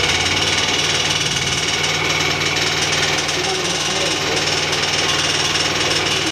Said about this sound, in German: Dann versuchen wir jetzt mal das Gerät zu starten.